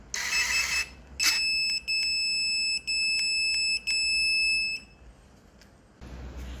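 GeHock cordless battery pruning shears emit three sharp, high electronic beeps in a steady row, loud and close, with a low hum before and after.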